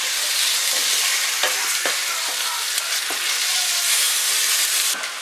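Partridge legs and carcasses browning in a hot pan, a loud, steady close sizzle of frying with a few brief stirring clicks and knocks, no talk.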